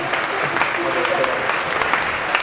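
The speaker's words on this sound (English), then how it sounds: "A round of applause." Audience applause at a talent show, a steady wash of clapping throughout the short stretch with no voices over it.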